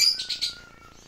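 Opaline pet birds kept for sale chirp in a quick burst of bright, close tweets that fade within a second.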